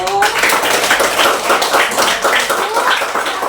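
A church congregation claps along during an Indonesian Sunday sermon, a dense, steady patter of many hands that fills the whole stretch with a faint rhythmic pulse, while a voice or tone briefly rises at the start.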